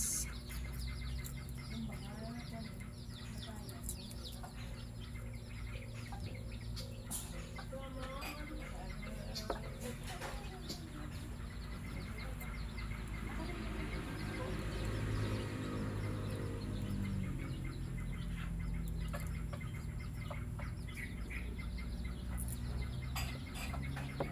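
Chickens cluck and chatter continuously in a noisy outdoor yard, with an occasional rooster call in the background.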